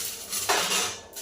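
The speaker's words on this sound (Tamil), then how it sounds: "லைட்டாக வறுத்துக்கலாம்." Red chillies, black pepper, cumin and asafoetida dry roasting in a pan, with a soft continuous rustle and a brief scrape of a utensil against metal partway through, close and moderately loud with no talking.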